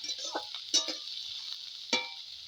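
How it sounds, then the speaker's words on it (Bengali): Food frying in a pan for a mutton curry, a steady bright hiss of hot oil with a few louder clatters and scrapes from stirring, close up, no talking. "এইভাবে ভেজে নেবো"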